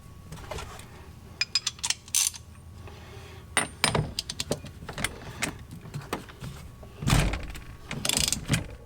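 A ratchet turns a 13/16 socket on the steering wheel nut of a third-generation Camaro, producing scattered sharp metallic clicks and short ratcheting bursts, near and intermittent, with no voices.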